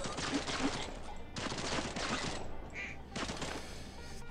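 A brief duck quack sounds in the swamp shooting game Swamp Attack 2, nearly buried under dense, continuous bursts of rapid gunfire.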